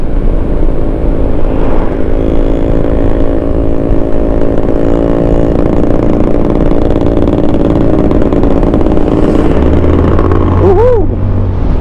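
A Zontes 400D 400cc scooter is ridden at steady speed, its engine holding a loud, close, even drone with wind rush and a brief rising whine near the end.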